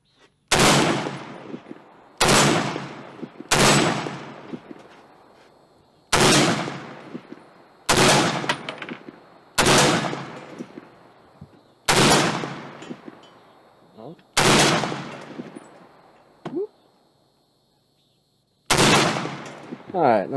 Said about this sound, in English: So I'm just going to put 3 shots on each and see if we can hit it. I am doing the FAL